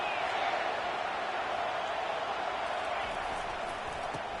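A stadium crowd at a college football game gives off a continuous, dense roar that stays level throughout, with an announcer's voice over it.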